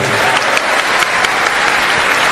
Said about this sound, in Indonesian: Tepuk tangan buat Maryam.